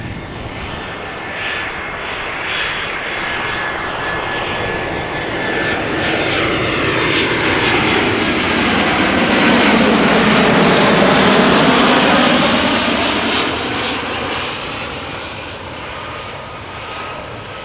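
A 15-year-old EasyJet Airbus A319 arriving from London Gatwick at Amsterdam Schiphol passes close with a long swelling jet roar and sweeping tones that peak midway, then slowly fade, with no voices.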